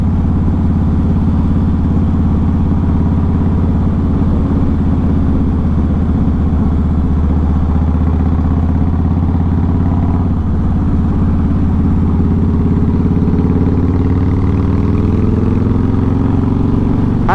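A Harley-Davidson Softail Deluxe motorcycle rides along a road, its engine producing a loud, steady, throbbing drone that holds unbroken for the whole stretch, with no voices.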